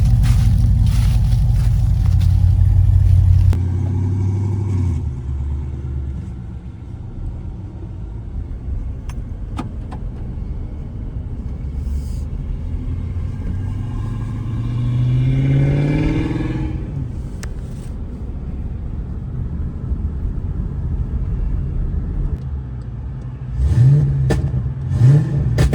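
A Cadillac CTS-V with a new exhaust idles, then revs up in a rising, roaring sweep, settles back to a rumble, and revs hard again near the end.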